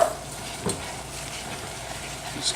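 Breadcrumbs being stirred into a baked chopped clam and brie mixture for a clams casino style dish, a soft steady scraping and mixing with a faint sizzle underneath, a couple of slightly louder clicks of the utensil, no talking.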